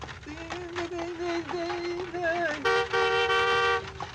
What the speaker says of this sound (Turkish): Hey arabacı! Yol versene! İki saattir korna çalıyorum sağır mısın?